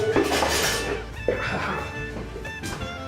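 A bowl is pulled from a stack of dishes, giving close clinks and knocks of crockery with a brief clatter, and faint voices in the background.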